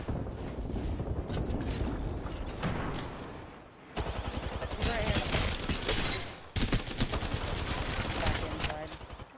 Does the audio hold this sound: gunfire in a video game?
yes